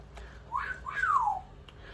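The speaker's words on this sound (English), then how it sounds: "if you hear somebody wolf whistling, it's me parrot" A parrot's two-note wolf whistle, rising then sliding down, fairly faint against a quiet background.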